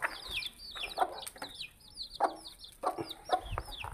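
Chickens cluck and a rooster calls in a farmyard, a series of short repeated calls spread across the moment, moderately close with no talking.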